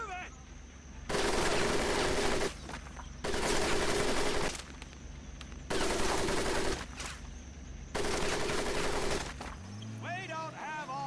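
Machine gun fire in Medal of Honor Pacific Assault, arriving in four long sustained bursts of roughly one to one and a half seconds each, separated by short gaps, loud and close, with quieter noise and a brief voice near the end.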